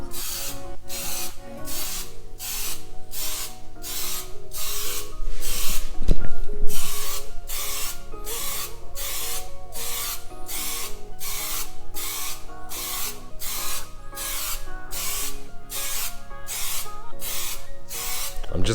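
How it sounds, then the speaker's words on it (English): A spray can of white Super Cheap Auto primer surfacer is sprayed in a steady run of short, regular hissing bursts that carry on and off from start to finish, laid onto a Nissan Skyline V35 front bumper close by during paint prep. "Super Cheap Auto Primer Surface, and mind you, this is a white one, so when you spray it"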